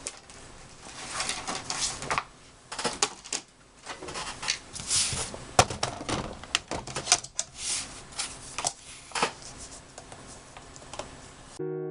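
Paper card bases being scored give repeated scraping strokes and light taps, irregular and close, with small clicks scattered between them.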